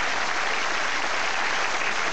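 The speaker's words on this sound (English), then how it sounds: "you're applauding your own answer" Studio audience at a TV comedy panel show applauding steadily, a dense, even wash of clapping that stays loud throughout.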